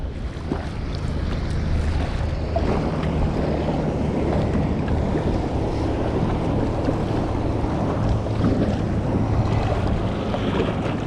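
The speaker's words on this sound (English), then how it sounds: "Look how fast Port Phillip Ferries is going." Constant roar of wind and rushing water as a ferry speeds fast across open water, with heavy wind buffeting throughout.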